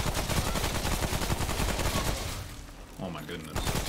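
Rapid bursts of gunfire and explosions from the shooter game Remnant: From The Ashes fill the first half, dense and loud, then thin out as voices talk briefly over the quieter battle before shots resume.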